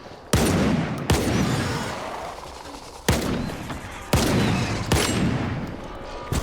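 Shotgun blasts in the shooter game STALKER 2, five loud close booming shots spaced irregularly over several seconds, each trailing off into a long rumbling decay.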